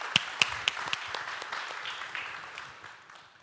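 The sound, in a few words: audience applause welcoming a speaker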